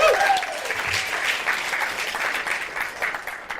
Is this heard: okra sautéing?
no